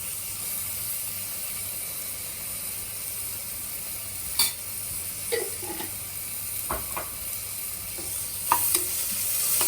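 Ginger garlic paste fries with onions in a pan for rajma pulao, giving a constant hissing sizzle broken by a few sharp spoon scrapes and taps against the pan, no speech.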